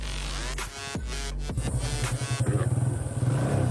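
A six-year-old TVS Apache motorcycle being ridden, its engine revving with a few throttle blips before settling into a steady, close, pulsing drone with some mechanical clatter.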